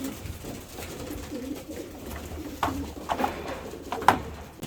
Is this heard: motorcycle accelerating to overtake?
no